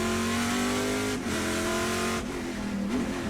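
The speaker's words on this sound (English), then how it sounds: "The car sounds great." Trans Am race car on the Portland circuit, its engine revving hard and loud at close range with steady high-pitched drone and brief dips as it shifts, no talk over it.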